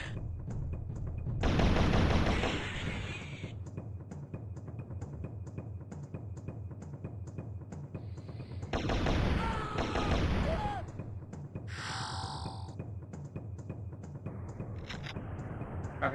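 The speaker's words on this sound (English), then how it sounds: "Rocket shells." Rocket shells firing in a video game: a rapid rattling volley of shots over steady battle noise, with two louder surging bursts of roaring fire and some whooshing sweeps, fairly loud and continuous.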